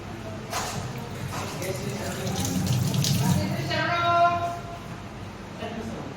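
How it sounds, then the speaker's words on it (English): Hands being washed under a running tap at a sink, the steady stream of water splashing and rising and falling through the steps of handwashing, with a voice speaking over it. "Sequence of hand washing, that are 7 steps of hand washing."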